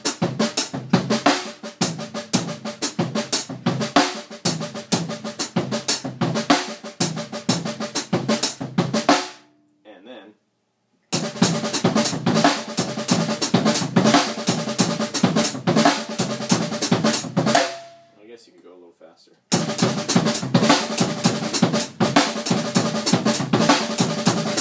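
Open-handed funk drum beat played with paradiddles across two snare drums, a steady busy groove of crisp snare and cymbal hits, loud and close, broken by two short pauses before resuming.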